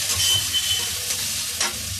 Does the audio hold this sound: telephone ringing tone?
no